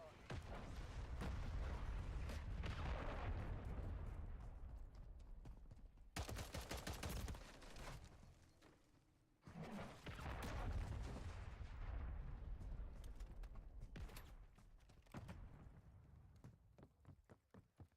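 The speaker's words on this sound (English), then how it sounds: "Missile approaching target." Heavy gunfire and booming blasts from a missile strike in the video game Wayfinder, dense bursts of shots and explosions filling most of the stretch, with a sharp break partway through, under game voice lines.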